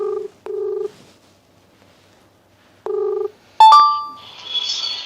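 A phone call is placed with a series of electronic tones in two short clear bursts. A sharp click follows, then a hissy connection sound, all quiet and close with no talking.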